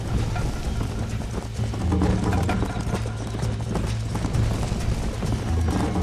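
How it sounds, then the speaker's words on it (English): Galloping horse hooves in the Red Dead Redemption video game, a fast, continuous drumming of hoofbeats up close with faint rumbling ambience underneath. "You're gonna wear that horse out!"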